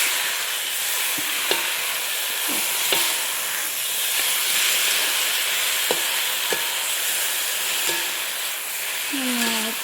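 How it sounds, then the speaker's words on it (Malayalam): Marinated chicken being stirred into onion gravy in a pan for a home-style chicken curry, with a steady loud sizzle throughout and occasional scraping strokes of the spoon. "കുറച്ച് നേരം ഇളക്കി കൊടുക്കണം"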